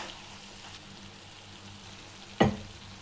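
Chili powder and turmeric sizzle in hot oil for a Kerala-style lemon pickle, a low, steady frying hiss with one brief, sharper crackle of stirring near the end.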